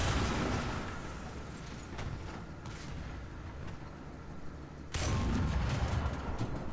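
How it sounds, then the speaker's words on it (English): Cannon shots from an SU-57 Soviet premium tank destroyer in War Thunder, one boom near the start and a louder heavy blast later, with engine rumble and mechanical creaks between them. "Missed again. Horrible, horrible gunnery."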